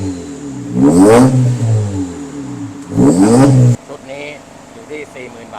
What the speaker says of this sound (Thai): อันี้ใส่วาลววาลวก็ออกเป็นสามรูทางนี้ เปิดวาลวเสียง